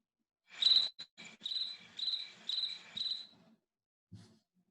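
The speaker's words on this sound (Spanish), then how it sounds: "Descubrí que hay un grillo en mi vida" Cricket chirping in clear, close bursts, several rhythmic trills in quick succession followed by a pause and one last faint chirp, alone without voices.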